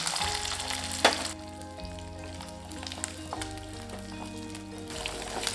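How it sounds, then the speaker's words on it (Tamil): Small shallots and garlic cloves sautéing in hot oil for a garlic chutney, a steady close sizzle with scattered crackles and a louder burst early on, no voices. "சின்ன வெங்காயத்துக்கு கூடவே பூண்டு பல் சேர்த்து நல்லா வதக்கி விட்டுக்கலாங்க."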